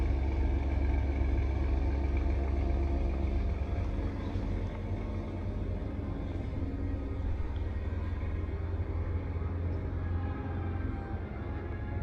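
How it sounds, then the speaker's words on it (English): An old military truck engine idles steadily with a deep, continuous rumble and low drone, unchanging and fairly loud throughout, at a military vehicle museum. "This truck's running,"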